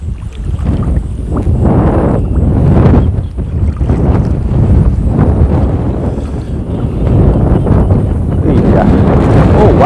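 Strong wind buffets the microphone while riding in a small boat out setting nets during the flood season, a loud, continuous roaring gust that swells and eases over a low rumble, with no speech.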